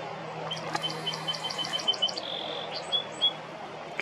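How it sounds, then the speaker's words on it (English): A song sparrow sings soft, mellow phrases in spring at Sachuest Point, Middletown, Rhode Island. Short chirps and trills repeat over a few seconds, fairly faint against steady outdoor background noise. "You can hear a song, sparrow singing."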